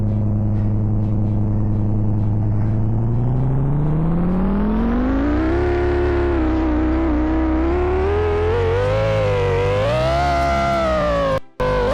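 A video game car drives through a Roblox city, its engine tone climbing steadily as it accelerates, loud and continuous with no talking, and cutting out for a moment near the end.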